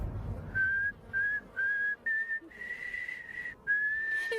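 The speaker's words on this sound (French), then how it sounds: "il arrive à siffler au clair de la lune avec son nez" A steady, clear whistle traces the tune Au clair de la lune through the nose, in a series of sustained pure notes with short gaps between them, heard alone.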